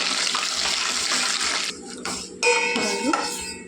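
Steady hissing sizzle of five dried red chillies frying in hot oil, loud and close, with brief dips and a few crackles and clinks toward the end.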